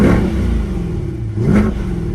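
A 2023 Chevrolet Corvette C8 engine revs loudly, a deep mid-engine roar swelling and easing twice in quick succession, close and dominant with no voices.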